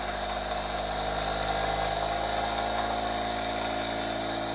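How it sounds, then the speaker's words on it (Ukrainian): An electric motor hums steadily and loudly, a constant droning whine with a faint high tone appearing briefly partway through. "Двигун почав працювати набагато інтенсивніше"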